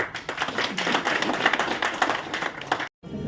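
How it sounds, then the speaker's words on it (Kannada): Audience at a legal newsletter launch ceremony breaking into brief, dense clapping that lasts a few seconds, then cuts off abruptly. "ಬಿಡೀರಿ ಒಂದು ಚಪ್ಪಾಳೆ"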